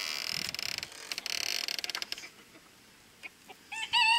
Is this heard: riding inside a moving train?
no